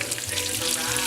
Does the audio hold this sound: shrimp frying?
yes